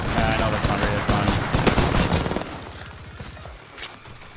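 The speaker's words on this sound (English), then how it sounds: "Wait, he's shooting me?" Gunfire in a video game is aimed at the player: rapid, dense bursts of shots ring out loudly at first, then thin into quieter, spaced pops.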